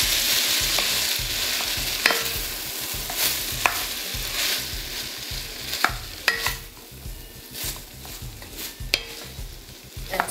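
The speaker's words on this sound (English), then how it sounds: "I'm going to add the zucchini and the cauliflower. And just give it a quick stir." Zucchini and cauliflower are stirred in a frying pan with curry spices, a steady sizzle broken by repeated scraping and clinks of the utensil against the pan, close and alone.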